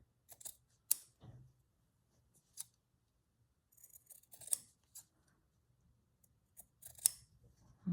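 Scissors trim fabric close for a journal tag, making sparse, quiet, crisp snips in irregular clusters near the microphone against an otherwise silent background.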